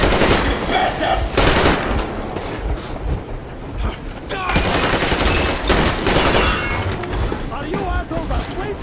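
Heavy gunfire in the video game Metro Exodus: loud, sustained automatic bursts and rapid shots in a chaotic firefight, with voices shouting over the shooting.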